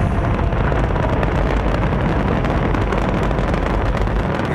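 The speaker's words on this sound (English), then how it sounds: "It is just a huge explosion" Space shuttle launch with solid rocket boosters igniting into a huge, continuous roaring blast, a dense broadband rumble that stays loud and steady throughout with no pauses.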